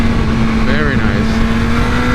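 A 2016 BMW S1000R motorcycle with a flashed ECU pulls hard in second gear, its engine a steady, close, droning roar mixed with rushing wind noise throughout.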